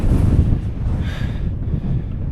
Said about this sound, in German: Aber es ist so windig.